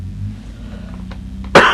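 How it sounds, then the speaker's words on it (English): A single sharp cough bursts out near the end, loud and close, after a stretch of quiet room rumble and faint background hum. "I'm gonna cough now."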